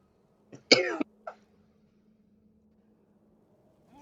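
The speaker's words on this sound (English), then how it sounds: "I've been for some reason coughing a lot lately" One person coughs a few times in close succession, a short harsh burst followed by a smaller trailing cough, near and clear against an otherwise quiet room with a faint steady hum.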